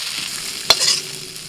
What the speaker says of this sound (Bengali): নাড়াচাড়া করতে করতে শাকের জলটাও শুকিয়ে গেছে, আর এই দেখুন শাকটাও ভাজা হয়ে গেছে